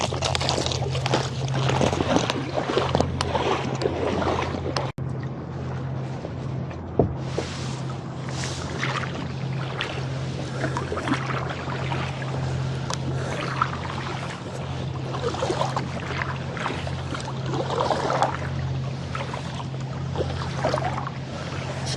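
Kayak paddling across a one-mile channel toward Hudson Point on Salt Spring Island, with rhythmic water swishes and drips from paddle strokes over a steady low hum and light wind, no talking.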